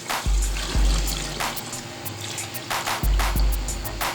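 Meat-boiling stock poured into a pot of browned potato and meat curry, splashing in loud bursts with gaps between pours, close by and with no voices.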